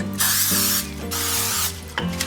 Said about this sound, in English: I use the spray first, just a normal non-stick cooking spray.